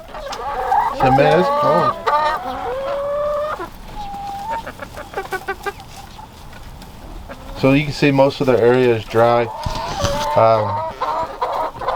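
Homestead chickens cluck and call repeatedly on a cold, windy day, loud and close, with someone talking over and between the bird sounds.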